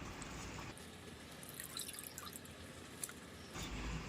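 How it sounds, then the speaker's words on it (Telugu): Water poured into a cooking pot for goat head curry, a steady close trickle and splash with brief drips, running continuously without speech. "ఇప్పుడు వాటర్ వేసుకోవాలి."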